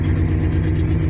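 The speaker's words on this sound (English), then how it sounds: "this is what the van sounds like when it's running" A Ford E-350 Super Duty van engine runs at a steady idle, loud and close, with a deep even rumble and a faint exhaust-leak tick, alone without voices.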